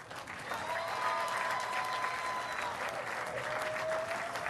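Sustained crowd applause fills an arena at a boys' state basketball finals, honoring the two finalist teams; dense, steady clapping from a large audience holds at an even level throughout, with faint whistles drifting over it.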